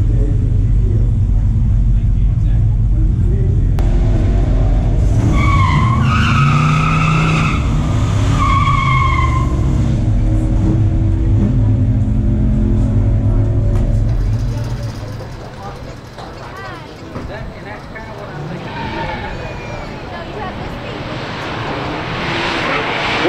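A 1974 Duster 360 and a 1970 Chevelle SS run side by side at a pure stock drag race, loud engines roaring with rising gear-change howls, then a quieter stretch as the cars fade out, and crowd noise swells near the end.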